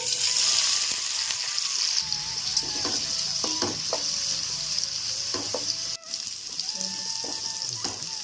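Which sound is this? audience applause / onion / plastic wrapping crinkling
onion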